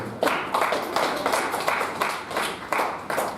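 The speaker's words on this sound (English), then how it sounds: "Clap your hands and celebrate God." A church congregation claps hands together during a healing service, steady repeated claps in a fairly even rhythm with some reverberant room noise, no clear talking.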